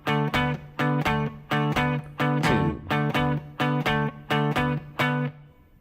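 Distorted electric guitar chugs a D barre chord riff over two measures: a dozen evenly spaced, punchy strummed chords with short gaps between them, and a final ringing chord that fades out.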